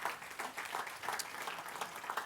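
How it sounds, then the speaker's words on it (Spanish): Members of a church congregation clap loudly in praise during a sermon, a dense, rippling burst of applause that swells and fades in waves. "Alguien le da un aplauso fuerte a nuestro Dios."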